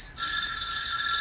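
A telephone ringing in a scene from the film Airlift, a loud, close electronic bell trill that starts after a brief burst of noise and rings continuously, with no voices over it.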